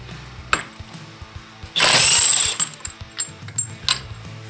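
An impact gun spins off a 36 mm nut on a Kawasaki ZX9R motorcycle, one loud sustained burst of about a second amid scattered tool clanks and knocks, close by.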